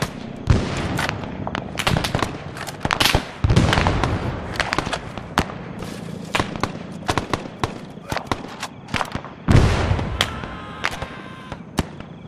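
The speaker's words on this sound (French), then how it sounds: "Une grenade." A grenade blast and rapid gunfire crack in the ARMA III S.O.G. Prairie Fire Vietnam-era combat game, with many sharp explosive reports, several heavy booms and shorter bursts in between.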